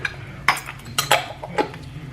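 Al pastor meat being stirred in a pan, several sharp scrapes and clinks of a utensil against metal in an uneven rhythm, close and fairly loud.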